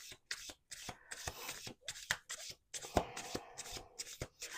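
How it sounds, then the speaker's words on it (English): A deck of cards is riffled and shuffled several times in quick bursts, crisp fluttering snaps separated by short pauses, close and quiet. "We're going to do one more shuffle."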